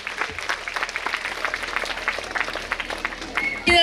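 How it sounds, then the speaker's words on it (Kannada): An audience at a school annual day claps for award-winning students, a continuous patter of many hands with speech mixed in, ending in a sudden louder burst. "ಪ್ರಶಸ್ತಿಯನ್ನು ಸ್ವೀಕರಿಸಿದಂತಹ ಎಲ್ಲ ವಿದ್ಯಾರ್ಥಿಗಳಿಗೆ ತಮ್ಮ ಕೈ ಚಪ್ಪಾಳೆಯೊಂದಿಗೆ ಪ್ರೋತ್ಸಾಹಿಸಬೇಕಾಗಿ ಕೇಳಿಕೊಳ್ಳುತ್ತೇನೆ"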